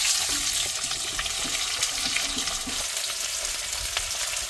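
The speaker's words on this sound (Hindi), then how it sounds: "पहले प्याज डालते हैं इसमें, प्याज को बढ़िया से फ्राई करके लेंगे।" Onions fry in hot oil in a kadai while cooking inside a truck, giving a steady, close, loud sizzle with faint stirring scrapes and crackles throughout and no talk.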